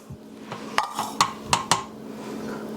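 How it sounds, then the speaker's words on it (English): A whisk clinks against a bowl while beating a no-churn strawberry Oreo ice cream mixture, with several sharp taps and scrapes in an irregular rhythm, close and moderately loud, and no talking. "So we will put that there and whisk that in."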